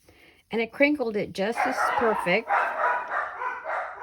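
Two Yorkshire terriers yip and bark in quick bursts while playing, close by and loud at first, then someone talks over continuing background noise.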